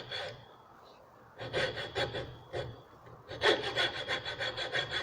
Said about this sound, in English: here we go, the old coping saw